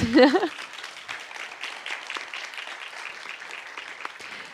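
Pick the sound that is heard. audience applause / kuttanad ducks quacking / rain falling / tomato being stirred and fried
audience applause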